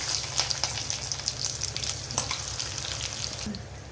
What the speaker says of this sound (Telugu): ఆయిల్ వేడెక్కిందండి, ఇవి వేసేస్తున్నానండి పప్పులు